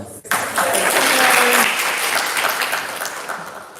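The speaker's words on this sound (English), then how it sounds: "I move to give a big round of applause for IVSA Taiwan and their great work regarding the preparations for this event in this short time." An assembly hall at an international veterinary students' symposium fills with a big sustained round of applause for the Taiwan organisers, swelling quickly after a brief opening sound and then slowly tapering off.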